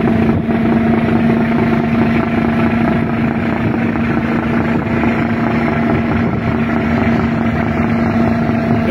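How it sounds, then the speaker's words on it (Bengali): A ship's engine passing close by on open water, a loud, steady low droning rumble with a constant hum and wind noise, no voices. "এই দেখেন এটা কি জাহাজ, জাহাজের মতোই।"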